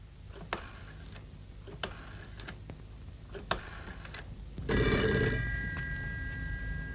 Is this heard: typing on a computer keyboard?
no